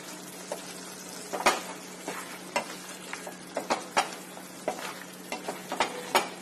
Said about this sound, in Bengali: এই অবস্থায় আমি এতে দিয়ে দেবো কোয়াটার চামচ চিনি, দিয়ে একটু মিশিয়ে নেব।